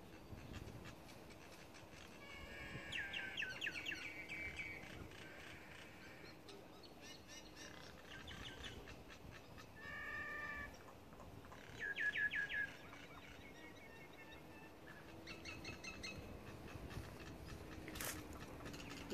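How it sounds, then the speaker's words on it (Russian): Outdoor ambience in Israel with scattered wild bird calls and chirps rising over a steady background hum, a few brighter bursts standing out now and then. "Боюсь спугнуть этих птиц"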